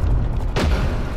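A bridge blown up in a video game: one deep, heavy boom bursting out midway through a dense rumbling backdrop, loud and close, with no voices.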